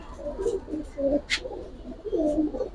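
Giribaz pigeons cooing in a loft, several soft rolling coos in a loose rhythm, close by and moderately loud, with a brief higher chirp partway through.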